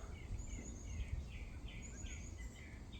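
Faint birdsong outdoors in nature: several short chirping calls from birds at a distance, set against a steady low background hum with possible insect buzzing.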